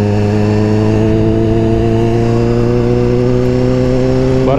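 A Honda CBR 1000 RR-R sportbike fitted with a new exhaust idles loud and close with a steady, deep engine drone, then revs sharply upward at the very end.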